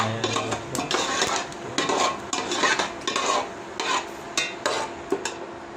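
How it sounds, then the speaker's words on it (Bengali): Panch phoron spices dropped into hot oil crackle and sizzle steadily, with close scraping and stirring clatter of a utensil in the pan repeating throughout. "এই যে দেখেন তেল গরম হয়ে গেছে, এখন এই যে পাঁচফোড়ন কটা আনাম দিয়ে দিতেছি"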